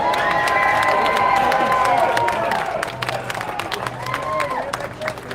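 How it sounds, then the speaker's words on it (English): Outdoor crowd at a street rally applauding and cheering, with dense clapping and shouts carrying through a steady wash of noise, some whistles and raised voices mixed in, loud and sustained throughout. "please give them a big round of applause"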